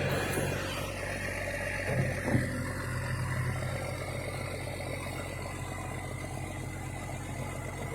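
A Cummins-swapped Super Duty rollback truck with its PTO engaged, running as a steady low idle hum with faint vibration and rattle, close and constant, with a brief clunk early on.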